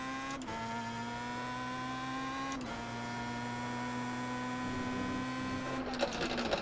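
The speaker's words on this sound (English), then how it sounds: "The familiar sound of the steering wheel ripping my arms off there." Force-feedback steering wheel on a racing sim rig during an iRacing race, a steady mechanical whine and hum with two brief jolts, louder rattling near the end, no talking.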